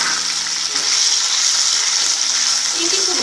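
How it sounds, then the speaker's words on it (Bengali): Prawns fry in oil previously used for frying potatoes, giving a dense, even sizzle that stays close and loud for a few seconds. "এবার ওই একই তেলেতে আমি চিংড়িটাকে ভেজে নেব।"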